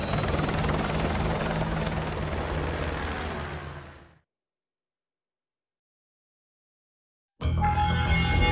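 Helicopter in the video game Modern Warfare 2 Remastered, a loud steady rotor roar and engine drone that fades out around the midpoint, falls silent for a few seconds, then returns abruptly at full strength.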